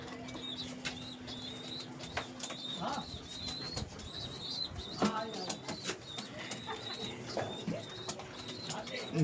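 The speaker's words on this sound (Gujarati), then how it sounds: "તો ફાઇનલી બધા કબૂતર પૂરી દીધા છે." Pigeons shut inside a coop coo softly while wings flap in short bursts, mixed with scattered chirps and light knocks, faint and close.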